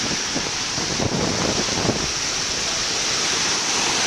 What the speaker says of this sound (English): that's the beach down by the Crab Trap